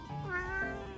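A Javanese cat gives a single drawn-out meow with a shifting, speech-like contour, close and fairly quiet, alone without talk.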